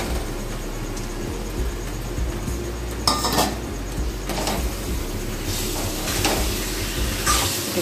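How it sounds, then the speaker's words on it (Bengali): Fried chicken stirred with spices in a pan for a jackfruit chicken curry, a metal spoon clanking and scraping against the pan in irregular bursts over a low sizzle, with no talk. "এবার আমি চিকেনটা দিয়ে দিচ্ছি,"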